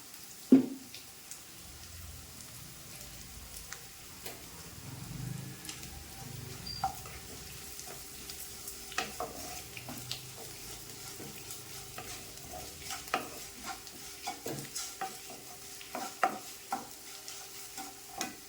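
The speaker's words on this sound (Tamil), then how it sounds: "இப்போ வெங்காயம் வந்து இந்த அளவுக்கு நல்லா வதங்கியாச்சு" Onions sauté in a pan with a low steady sizzle, stirred now and then with sharp, close spoon scrapes and taps that come in irregular bursts over a quiet kitchen background, with no one speaking.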